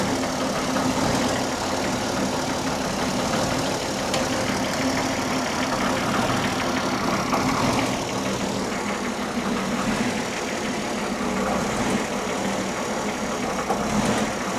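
An old Ford Mustang engine with a suspected blown head gasket idles roughly up close, loud and continuous with an uneven knocking pulse and slight rises and dips in revs as it surges.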